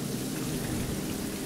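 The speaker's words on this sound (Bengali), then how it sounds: "এমন সময় আবার কালো মেঘ করে ঝরঝর করে বৃষ্টি শুরু হলো।" Steady rainfall pours down as a sound effect in a spooky audio story, a dense, even hiss of falling drops with no talk, constant throughout the short stretch.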